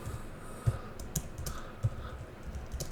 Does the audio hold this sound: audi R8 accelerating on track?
no